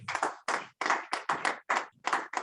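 Congregation clapping in a church service, sharp rhythmic bursts of hand claps in quick groups with brief gaps, fairly close and steady, no talk over them.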